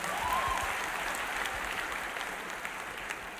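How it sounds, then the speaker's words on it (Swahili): An audience claps steadily in a church, with a dense, even patter of many hands that fades slightly over a few seconds, without speech on top. "mpigieni makofi"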